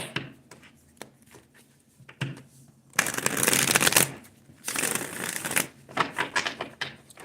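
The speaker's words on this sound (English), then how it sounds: "as much as I shuffle these damn cards, it's like the same cards keep coming out." A deck of cards is shuffled close up in loud, crackling riffle bursts with lighter taps between them, while a person talks at times.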